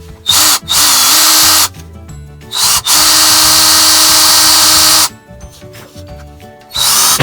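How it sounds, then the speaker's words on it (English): A drill fitted with a Dremel bit hollows out the mouth of a popper fishing lure, giving loud high-pitched whining bursts of about a second each, separated by brief pauses, with one long run in the middle. "take a Dremel bit and chuck it up in a drill, and then see if I can maybe hollow out the inside of this popper"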